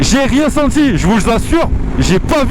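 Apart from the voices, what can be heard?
No distinct noise like a dog, phone or traffic.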